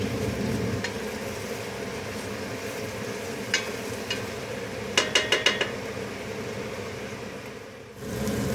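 Onion and garlic fry in a pan while being stirred, with a steady close sizzle, a few light utensil taps and a quick burst of clinks against the pan midway.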